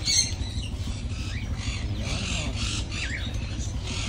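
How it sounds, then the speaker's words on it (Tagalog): Indian ringneck parrots in a shop aviary, sharp squawking calls repeating through the clip over a steady low background rumble. "Indian ringneck."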